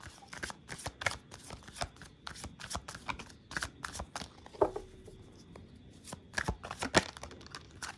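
Tarot cards are shuffled in quick, crisp riffling bursts, close and fairly quiet, with short pauses and a faint murmur in between.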